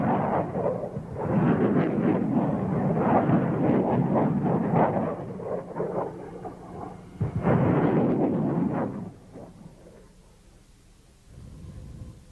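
MLRS rocket submunitions explode over a wide area in test footage. Deep, rolling booms merge into a sustained roar, then a second burst follows and fades into a low rumble.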